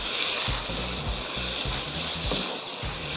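Shrimp sauce for pasta is stir-fried over high heat in a pan, a steady sizzle under repeated scraping and clacking strokes of the utensil, close and fairly loud.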